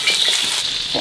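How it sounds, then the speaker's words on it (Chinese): Fresh pork ribs sizzle as they are stir-fried in a hot wok, giving a loud, steady hiss with soft scraping stirs underneath. "今天用新鲜排骨炒"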